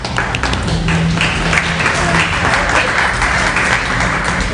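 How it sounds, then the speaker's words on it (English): Loud, dense audience applause at an inspirational speaking event, a steady wash of many hands clapping throughout with a faint murmur underneath. "Round of applause for Angela."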